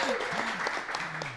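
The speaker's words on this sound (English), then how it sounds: "let's first have another big round of applause for Brandy" A town hall audience claps in a short burst of steady applause, with a voice speaking over it.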